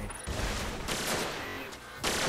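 A MIDA Multi-Tool rifle fires in a competitive shooter video game, with a few rapid bursts of close, crisp gunfire separated by brief pauses.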